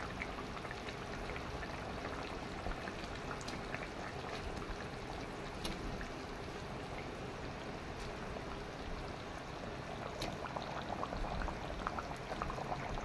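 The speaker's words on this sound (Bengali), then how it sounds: "এবার মাছটা দিয়ে দেওয়া হচ্ছে।" Fish curry gravy simmering after the fish goes in, a steady close bubbling and sputtering hiss that carries on evenly throughout with no voices.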